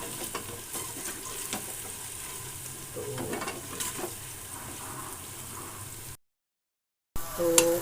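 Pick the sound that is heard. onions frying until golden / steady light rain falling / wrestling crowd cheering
onions frying until golden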